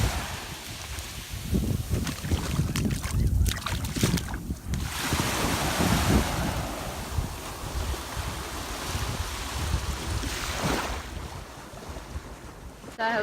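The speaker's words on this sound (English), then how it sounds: "it's very like loud and it's very windy" Strong wind at a beach, a loud, steady roar of gusts buffeting the microphone with surf and wave wash underneath, continuous throughout with brief louder blasts.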